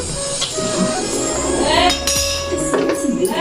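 A lid lifted off a cooking pot of vegetables by a wood-fired stove, giving metallic clinks and scrapes close by with a short ringing tone, under brief talk.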